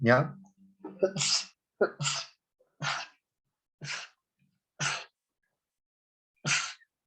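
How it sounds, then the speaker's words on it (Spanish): A run of seven sharp sneezes comes from a person lecturing on acid-base physiology, evenly spaced bursts with silent pauses between them, close and clear, followed by a brief spoken word. "Oh, ataque de estornudo, lo siento."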